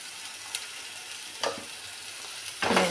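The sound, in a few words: sautéing ginger-garlic paste for whole masoor lentils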